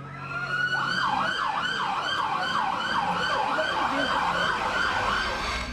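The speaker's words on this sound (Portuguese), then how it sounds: "A trilha sonora da cidade é a sirene." An emergency vehicle siren wails in a steady repeating up-and-down cycle in the city of Petrópolis, moderately loud and somewhat distant, with no other sounds competing.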